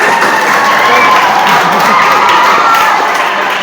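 Students in a classroom debate clap and cheer loudly together, a dense continuous roar of applause with excited shouting voices mixed in, close and unbroken throughout.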